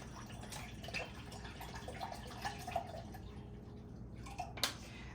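Water poured out for a pickled asparagus canning brine, with faint trickling and a few soft drips, rising to a brief louder splash near the end, in a quiet kitchen.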